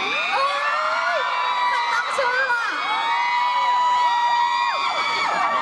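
A crowd of fans at a Thai concert shrieks and screams continuously, loud and dense with overlapping high-pitched cries that swell and dip, people shouting throughout.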